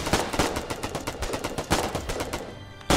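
Rapid bursts of automatic gunfire hammer at a foxhole in a video game, loud and close, a steady stuttering volley of sharp cracks that runs for a few seconds before breaking off.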